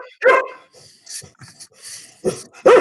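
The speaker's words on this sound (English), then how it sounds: "he's not going to stop barking" A dog barks in several loud bursts, with sharp yaps at the start and end, picked up through a computer during a video call, with no voices over it.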